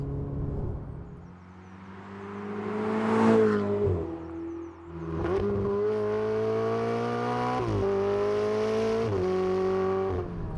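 A Ferrari 488 GTB accelerates hard on the road, the engine note climbing and swelling, dropping briefly, then pulling through repeated rising gear changes, loud and close from the cabin.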